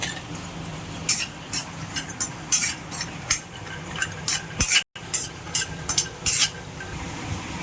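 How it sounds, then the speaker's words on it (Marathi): A utensil scrapes and stirs cashews dry-roasting in a pan in quick irregular bursts, with faint rattling and a soft sizzle underneath. "याच्यानंतर आपण काजू भाजून घ्यायचे"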